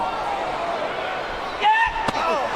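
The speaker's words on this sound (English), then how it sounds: "Evan Bourne slammed The Miz so hard that The Miz might be down under with Outback Jack right now" During an ECW wrestling match, a wrestler slams his opponent onto the ring mat, giving one sharp, loud thud over steady crowd noise and commentary.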